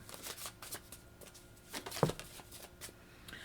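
Tarot cards are slid back into the deck with a run of quick papery riffles and taps close by, one firmer snap near the middle, and no voice over them.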